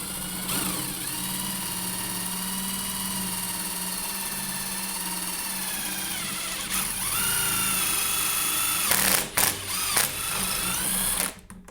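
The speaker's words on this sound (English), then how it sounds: "This is red oak, by the way, so it's going to be a little bit tougher to drill through" Drill boring through red oak held in a UJK drill guide, a steady motor whine running continuously with the pitch shifting as the bit loads up, then brief bursts and stops near the end.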